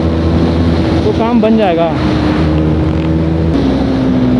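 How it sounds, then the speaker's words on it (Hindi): At speed on a KTM RC sport motorcycle, wind roars steadily and loudly over a droning engine, and someone speaks briefly over the rush. "हवा बहुत ज़्यादा पड़ रही है बाइक से, और ऊपर से हवा भी चली है तेज, बाइक स्पीड पकड़ ही नहीं रहा।"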